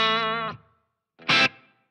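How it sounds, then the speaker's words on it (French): Electric guitar through a NUX MG30 pedalboard with faint reverb: a sustained distorted note that dies away, then a short bright strummed burst with a brief tail. "Manque plus qu'une petite réverb pour l'ambiance que je laisse très très faible"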